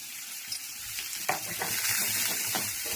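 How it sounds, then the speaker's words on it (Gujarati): Spices and chili hiss and sizzle sharply in hot oil as tempering for a pea curry, with a few crackling bursts rising into a steady loud sizzle. "સરસ મજાનો સંભારાનો વઘાર થઈ ગયો છે."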